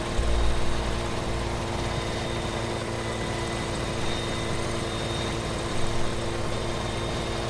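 A plane engine drones steadily in Farming Simulator 17 as the aircraft flies low over a farm and runs out of fuel. The sound is a loud, continuous, close whir with no voices.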